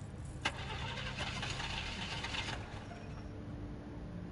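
A car engine in a video game cranks over and over without catching, as if out of fuel: a steady, dense mechanical churning for about two and a half seconds that then drops to a quieter hum.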